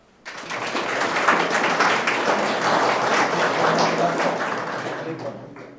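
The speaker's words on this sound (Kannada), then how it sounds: "ಪಾಯಿಂಟ್ ಚೆನ್ನಾಗಿದ್ದರೆ ಚಪ್ಪಾಳೆ ಬಾರಿಸ್ಬೇಕು" An audience applauds at a college closing ceremony for a CET crash course in Hassan, sustained dense clapping that swells quickly and holds steady, loud and close.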